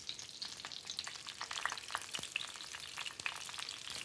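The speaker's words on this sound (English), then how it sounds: "So you just want to get these cooked in a shallow fry, maybe about 3 or 4 minutes on each side." Korean pan-fried skewers (kkochijeon) shallow-frying in oil, a continuous faint crackling sizzle with scattered light pops, steady throughout with no voices.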